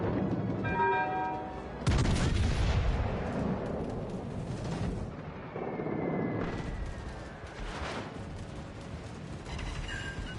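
Heavy naval gun salvos from warships in World of Warships Legends boom loudly in bursts, the sharpest blast at about two seconds, with rolling rumble and whistling shells between, and a faint game voice in places.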